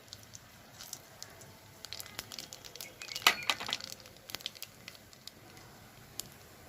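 Green chilli and nigella seeds crackling in hot oil for a pabda fish curry, a soft bed of sizzle dotted with scattered sharp pops and crackles, quiet and close, without speech.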